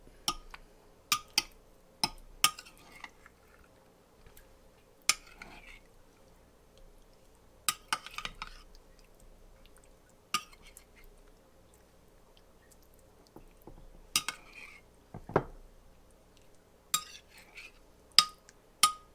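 Moo shu ingredients tossed in a bowl to coat them, heard as scattered soft clinks and wet squishy taps, some in quick clusters, close by against a quiet background.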